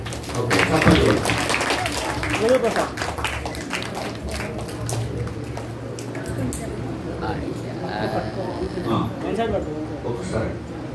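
Guests clap at a Christian wedding ceremony in a meeting hall in Yadiki, Anantapur, a scattered burst of applause that is strongest early and tapers off. Voices and room sound run underneath it.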